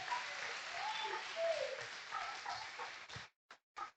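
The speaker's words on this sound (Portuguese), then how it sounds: "Vamos aplaudir o nome do Senhor." A church congregation claps in praise, a lively sustained round of many hands with faint voices mixed in, fading out and ending in a few short final bursts of clapping.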